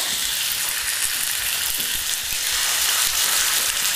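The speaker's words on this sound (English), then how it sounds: "Listen to that little sizzle." Chicken sizzles steadily in hot oil, a dense, continuous crackling hiss close up with no talking.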